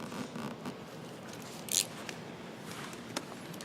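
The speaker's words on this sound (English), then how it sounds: "I do have a little bit of an angle to the knife, so that way it's not going to drag the vinyl." A very sharp knife held at an angle slicing through vinyl on a Ford Bronco Sport retro side panel, one quick, crisp cutting stroke amid quiet background noise.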